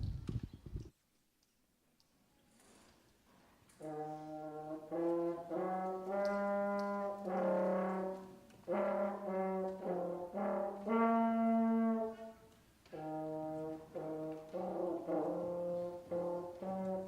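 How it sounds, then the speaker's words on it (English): A French horn plays a slow melody of sustained, mellow notes after a brief pause at a sixth-grade band concert, phrases separated by short breaths, close and clear with no talking. "But Wesley is going to play on the French horn for us"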